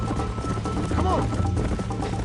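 Horse hooves clip-clop in a galloping rhythm in the video game Red Dead Redemption, mixed with game music and a short whinny, and a voice talks over the top.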